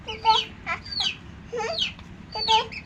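Backyard chickens cluck in short repeated bursts, close by, while pecking feed from a small boy's hand; soft background murmur beneath.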